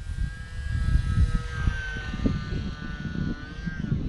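A small Horizon Hobby UMX radio-controlled plane flies low over a runway on a breezy day, its thin electric motor whine sweeping steadily, with wind rumble underneath throughout.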